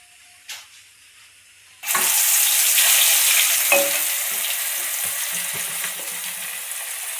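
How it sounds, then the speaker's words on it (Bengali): Mustard oil hits a hot wok in a home kitchen while cooking hilsa, bursting into a loud, steady sizzle after a brief quiet start, with occasional clinks and stirring sounds beneath the continuous hiss. "এখন আমি সরষের তেল দেব।"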